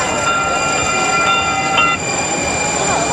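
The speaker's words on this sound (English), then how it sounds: "Comes a packed light rail train with all the fans" A packed light rail train rumbles past close by after a college football bowl game, its wheels squealing with high metallic tones over a loud, steady rolling roar.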